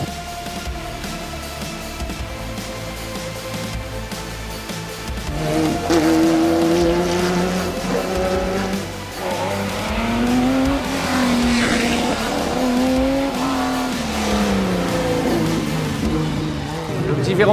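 A classic sports car on the Tour Auto 2021 rally stage from Nîmes to Nice drives with engine revs rising and falling and shifting gears, loud and close inside the car, with people talking over it.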